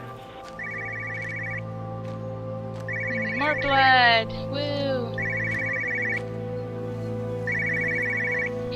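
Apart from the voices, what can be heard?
telephone ringing in video game Everybody's Gone to the Rapture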